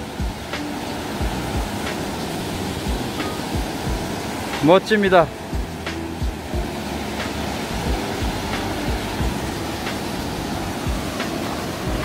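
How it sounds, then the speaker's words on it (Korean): Waterfall in the Deokpung Valley canyon pours with a constant, even rushing roar heard from nearby, while someone speaks briefly midway. "폭포이네요, 폭포."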